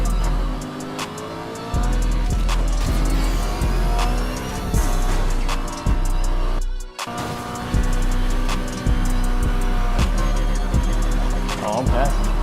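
Racing cars in a video game race roar loud and close, engines revving and shifting with repeated sharp gear-change or impact transients, broken by one brief dropout partway through.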